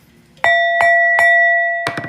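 A hand-rung bell chimes four times, bright ringing tones with sustained overtones, the first three strikes evenly spaced and the last two close together, loud and near with no talk.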